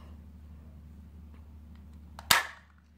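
A toy Nerf gun fires once at a ball, a single sharp snap near the end after a stretch of quiet low room hum.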